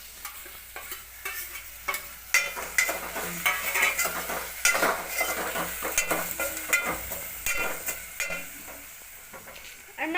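Garlic and chillies sizzle in hot oil for a kadhi tempering, with steady frying crackle under repeated scraping and stirring strokes, fairly close with no talking.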